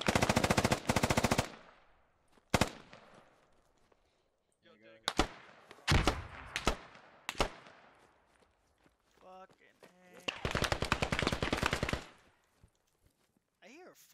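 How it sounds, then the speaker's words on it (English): AK rifle gunfire in a squad-based video game, short bursts and single shots cracking out between quieter stretches with footsteps and movement, loud and close, no talk. "I hear a fucking AK right by me."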